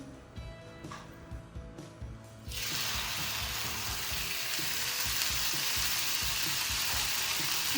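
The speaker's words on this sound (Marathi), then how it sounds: "अशा प्रकारे तव्यावर सोडू शकतो अगदी थोडंसं तेल घालायचं" Sabudana thalipeeth fries in a little oil on a griddle over low-medium flame, a steady close sizzle that jumps sharply louder partway through and then keeps a dense, even crackle with no talking.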